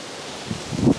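Early-morning wind gusting outdoors by a back step, a low rumbling buffet that swells toward the end with rustling, no voices.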